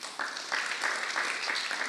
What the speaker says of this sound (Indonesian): Tepuk tangan untuk Tuhan Yesus ya